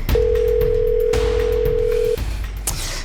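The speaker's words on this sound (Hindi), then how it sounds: "फोन लगा बेटा, फोन लगा, इसे फोन लगा।" A loud, steady telephone dial tone holds for about two seconds, then cuts off, followed by brief clicks and line noise.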